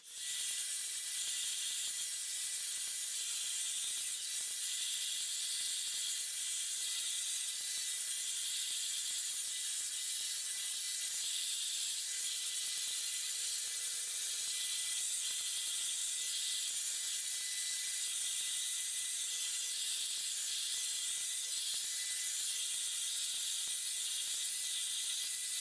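Hot air brush blowing steadily while drying short pixie-cut hair, a constant quiet airy hiss with faint mechanical rattles, no talk.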